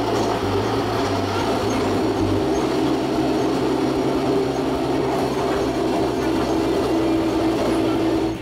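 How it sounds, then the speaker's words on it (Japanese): A trolley train stands at the platform of Ashinomaki Onsen station on the Aizu Railway Aizu Line, giving a steady, loud low rumble and hum of rail equipment that carries on without a break. "隣のプラットフォームにはトロッコ電車が停車中でした。"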